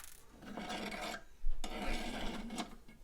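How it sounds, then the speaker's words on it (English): An SSD slides along a slot in a Raspberry Pi 4 cluster case, giving two close, scratchy rasping drags, each about a second long, with no voices. "I'm going to move the SSD down a slot,"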